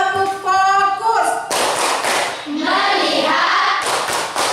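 Schoolchildren in a classroom chant together while clapping and tapping a rhythmic focus clap pattern, with voices dominating over the loud hand claps and thumps.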